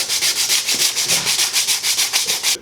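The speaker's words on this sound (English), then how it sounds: "I'm just going to sand the rim to clean everything off" Close, rapid back-and-forth sanding on a metal wheel rim, a raspy scrubbing in a steady rhythm of quick strokes.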